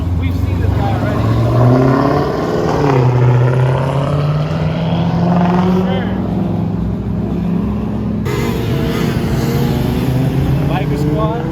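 A group of motorcycles passing on a downtown Miami street at night, loud engines droning and rising and falling in pitch as they go by close, with people talking over them.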